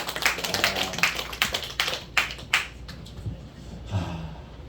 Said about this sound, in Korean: 이 잘생긴 사람 박수 한 번 해.